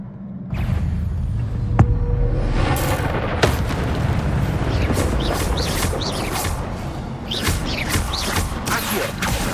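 Spell blasts and explosions in the Hogwarts Legacy video game come as repeated booming bursts and crackling magical impacts over a dense, continuous battle din, loud and close with sharp transients scattered throughout.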